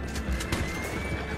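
A horse neighs and whinnies loudly and up close in a video game, with hoof clip-clop sounds and a steady game background underneath, no talking.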